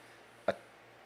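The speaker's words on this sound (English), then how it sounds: "Can you edit out that burp?" A single short burp bursts out once midway through a quiet moment at a live party-game show, close and abrupt, with nothing else heard around it.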